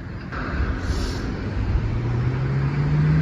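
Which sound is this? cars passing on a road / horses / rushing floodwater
cars passing on a road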